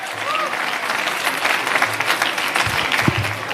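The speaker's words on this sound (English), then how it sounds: "Let's give them all a big round of applause from the diplomatic corps" A crowd at a mayoral reception for Asian-Pacific American Heritage Month applauds the diplomatic corps: loud, dense, continuous clapping with some crowd murmur and a brief voice underneath.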